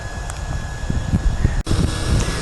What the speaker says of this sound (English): you can hear the motors change tone and it goes into an idle mode